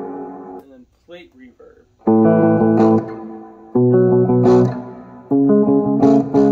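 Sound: guitar amp plate reverb

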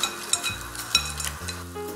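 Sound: shrimp frying in olive oil

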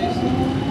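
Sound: tram in Amsterdam

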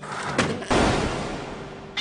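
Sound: door sliding or slamming

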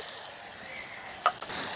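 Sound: turmeric powder and salt frying in oil

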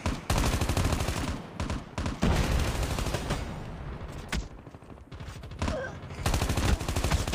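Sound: gunfire in video game Call of Duty Mobile

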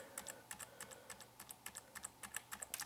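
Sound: repeatedly pressing the F8 key on a computer keyboard

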